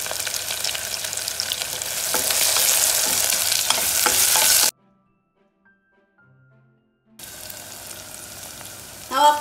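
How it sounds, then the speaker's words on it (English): Green chilies sautéing in a pan, a strong, close sizzle with stirring scrapes that builds, drops to near silence for a couple of seconds, then returns more quietly with a final clatter. "let me saute this"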